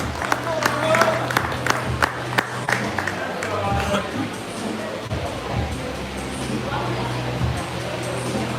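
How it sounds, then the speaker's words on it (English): Crowd applause and cheering for a powerlifter after a lift at a powerlifting competition, sharp claps and shouts early, then sustained clapping and crowd noise with voices mixed in, fairly loud and close. "Give him a bigger round of applause for that."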